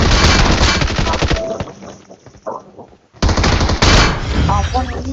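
Loud rapid automatic gunfire in the mobile game BGMI: a dense burst, a short lull with scattered sounds, then another sustained volley at close range.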